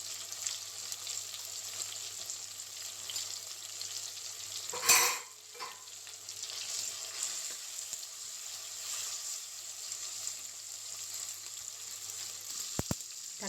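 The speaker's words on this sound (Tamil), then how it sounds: "தக்காளியும் பச்சை மிளகாயும் வதங்கி வச்சு" Tomatoes and green chillies sauté in oil in a pan for an anchovy fish curry, a steady soft sizzle with a louder stir and clatter near the middle and faint clinks near the end.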